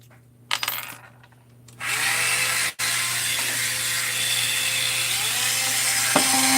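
A rotary tool with a football-shaped diamond bit cuts bevels: a few light clicks, then the tool spins up into a steady, close, high grinding whine that continues with only a momentary dip.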